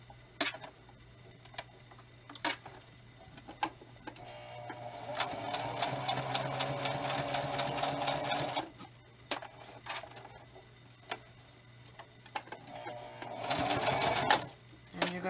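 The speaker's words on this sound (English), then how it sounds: "Do a sew all the way around." A sewing machine stitching fabric for a handmade spirit doll, with slow ticking needle strokes that build into two sustained runs of steady mechanical whirring, close by with light background hum and brief pauses between runs.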